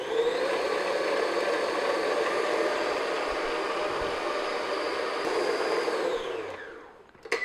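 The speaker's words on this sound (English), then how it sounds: "If you're using a stand mixer like this, maybe about 3 to 5 minutes on medium-high speed" A stand mixer beats vanilla cake batter at medium-high speed: a loud, steady whirring drone that runs unbroken, then winds down and stops near the end, with no voices.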